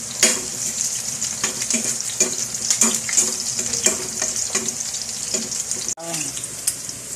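Onion and garlic sautéing in hot oil in a pan, a steady close sizzle with frequent stirring scrapes and clinks, plus a brief sharp clatter near the end.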